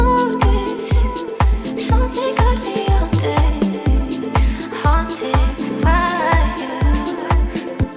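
Music track idea built on sustained piano and a vocal, with a steady thumping beat and no bass line, playing alone.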